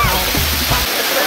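A roller coaster car rushes through water, throwing up a loud, broad splash that washes over the first part and then falls away, with voices mixed in.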